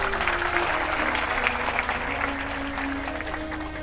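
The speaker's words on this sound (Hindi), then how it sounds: "ताली बजाओ तो सब बजाओ" An audience claps together at a spiritual discourse, a loud, dense wave of applause up close that slowly thins and fades over a few seconds.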